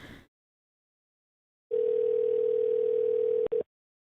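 A steady telephone call tone sounds while dialing out to someone, a single sustained electronic note lasting nearly two seconds with a brief break before it ends, heard alone after a short burst at the start.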